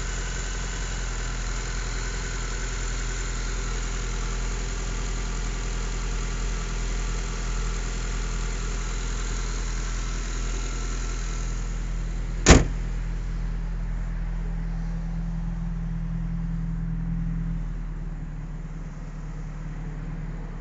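A 2013 Honda Civic Si with a 2.4-litre DOHC i-VTEC engine idles steadily up close, a sharp click or door thunk landing midway before the hum settles a little quieter.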